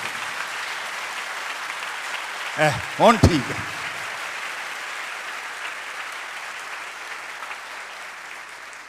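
Congregation at a Christmas service applauds for Jesus Christ, steady clapping running throughout, while someone speaks briefly partway through.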